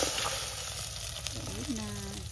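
Salted fish paste, bagoong isda, sizzles softly in a hot pan at close range, a steady faint frying hiss with a person talking over it.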